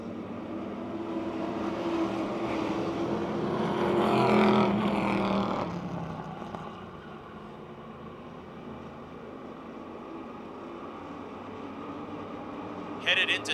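Race cars circling the Motordrome Speedway oval in an evening race, engines droning in a steady mid-distance roar that swells around four seconds and then eases, with a commentator talking over it.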